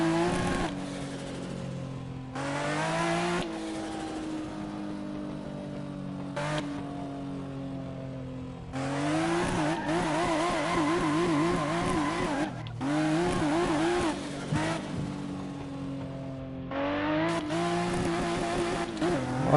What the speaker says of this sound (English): That literal turbo blow off is amazing.